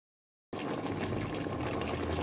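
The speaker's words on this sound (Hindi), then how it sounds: "ये कुकिंग ऑयल डाल रहे हैं" Cooking oil poured into a pot of frying mutton chops for biryani, starting abruptly after a brief silence as a steady liquid gush with a bubbling, sizzling texture, no speech.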